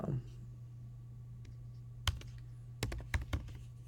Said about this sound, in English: enter my password here